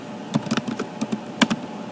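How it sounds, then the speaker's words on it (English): Quick, uneven clicks of computer keys being typed, close up and fairly quiet, with a few sharper taps among the light keystrokes. "I'm typing exactly what I see in my manual."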